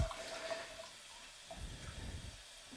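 A Tushy bidet fitted on a skirted toilet sprays warm water in a steady close hiss and splash, with a brief shift partway through, and no talking.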